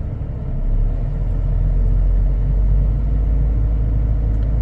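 Car engine revving and held at about 2000 rpm with the high beams on, a loud, steady low rumble that rises at the start and then stays constant.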